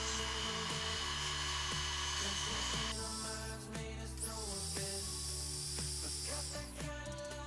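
A Foredom K.2230 rotary tool with an abrasive wheel mounted runs steadily with a dense, high-pitched whine and hiss, its tone shifting partway through as the speed or load changes, with no talk over it.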